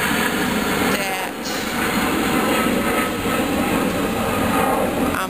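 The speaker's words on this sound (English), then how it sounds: "Here's a plane that went by" An airplane passes overhead as a broad, continuous roar that fills the background at steady loudness throughout.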